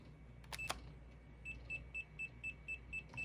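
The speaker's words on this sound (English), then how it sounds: "You will hear this constant beeping. That means it is in the bind mode." A BetaFPV Pavo Pico drone's DJI O3 air unit in bind mode gives a steady series of short, evenly spaced beeps. The beeps are faint and follow a couple of sharp clicks at the start.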